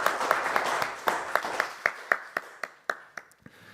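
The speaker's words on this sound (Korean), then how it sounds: "임재에 계신 하나님께 감사와 영광의 박수 올리겠습니다." A church congregation at a Sunday service claps together, starting as dense applause and settling into steady rhythmic hand claps that grow sparser toward the end, with a voice faintly present.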